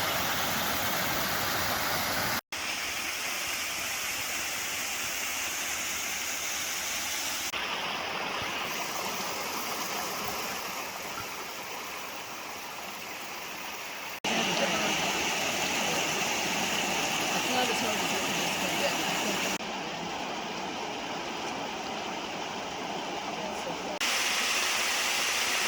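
Steady rushing roar of a Pennsylvania waterfall, a constant broadband wash of falling water heard close, with occasional voices and shifts in level as the view changes.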